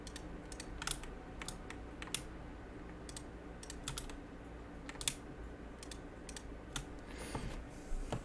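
Fingers type on a computer keyboard up close, a quick irregular run of crisp key clicks with short pauses, heard alone without voices.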